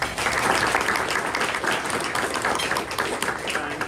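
Guests at a press luncheon applaud the event's sponsors with loud, dense clapping from a crowd, steady throughout the short burst.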